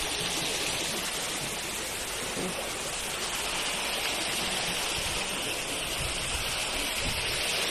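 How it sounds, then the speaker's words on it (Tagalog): Water rushes in a steady, broad hiss, like a stream or small waterfall nearby, continuous and unchanging throughout. "Lagas-las ng tubig."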